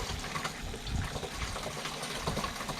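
Water gushes steadily from a makeshift rainwater collection system, a continuous splashing flow heard close by with no voices.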